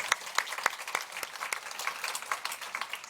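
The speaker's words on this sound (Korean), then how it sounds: "다시 한번 박수해 주시기 바랍니다." Churchgoers applaud during a Sunday sermon, a light, scattered round of clapping with distinct individual claps popping out over a softer patter, moderately distant, no talk over it.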